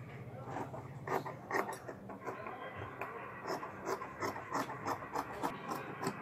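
Scissors cut fabric for a girl's skirt along a marked line. Faint, close snipping and rasping come in a repeated, uneven rhythm.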